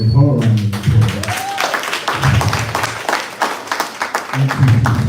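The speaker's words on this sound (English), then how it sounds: "So I would also like to give her a round of applause." Applause breaks out for the vice president at a gathering honoring women in commercial real estate, clapping rising under a voice speaking over a microphone at the start and again near the end.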